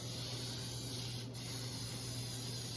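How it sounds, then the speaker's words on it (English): A steady, even hiss of cooking spray from a can, held close and continuous for a few seconds with no talking. "make sure you use your pan spray"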